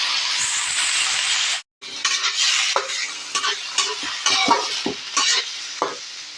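Squid for adobong pusit sa gata hitting a hot pan, with a steady loud sizzle broken by a brief gap, then stirring scrapes and clatters over continued frying.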